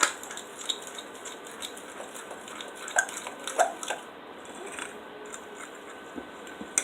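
Biscuit dough with flour and seasonings being mixed in a bowl, giving soft scraping and light clinks of utensil against the bowl, fairly quiet and irregular with no talking.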